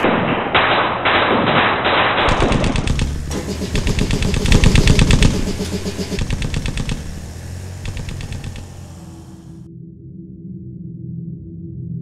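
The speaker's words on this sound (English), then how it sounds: "a sudden sniper fire erupts throughout the city" Gunfire crackles across a city during the Pilsen uprising against German forces, with rapid bursts of sharp shots and thuds, loud and dense at first, then thinning into scattered reports before dying away.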